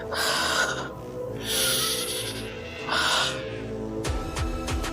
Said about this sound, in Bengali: ভেতর থেকে যেন কারো নিঃশ্বাসের শব্দ আসছে।